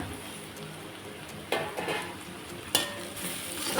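Onions sautéing in a pan with green chilli, curry leaves and mint, a steady close sizzle with a few louder stirring scrapes, no talk.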